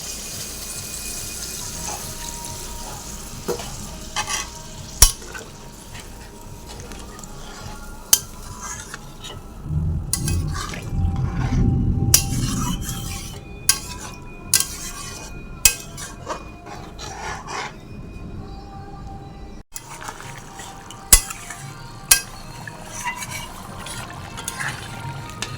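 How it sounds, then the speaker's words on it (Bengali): Duck meat curry with potatoes simmers in a pot of water. Soft bubbling runs throughout, broken by sharp metal clinks and scraping strokes of a spoon against the pot. No one speaks. "হাঁসের মাংসটা আমাদের এখান থেকে ফুটছে"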